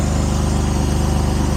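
A Jeep engine running loud and close, with a battery fault and a worn belt: a steady droning rumble with an even pulsing beat and no talk.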